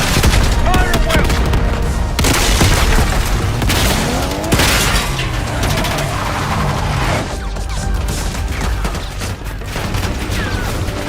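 Sustained gunfire and explosions from a Call of Duty: Black Ops 6 battle, with dense overlapping shots, bursts and booms filling the whole stretch at loud, close range, while voices call out beneath the chaos.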